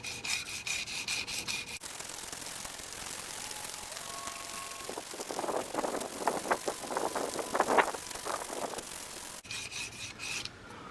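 A single bevel arrowhead being sharpened on fresh 400 grit abrasive paper wrapped on a dowel, a steady close rasping rub that swells into a run of rhythmic louder strokes near the end.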